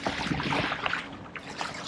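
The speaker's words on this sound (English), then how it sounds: "I'm just paddling harder on the right side and lighter on the left" Steady splashing and swishing from paddle strokes in water beside a Sea Eagle RazorLite inflatable kayak fitted with a Bixpy skeg motor, continuous and close, with a few sharper drips and dribbles.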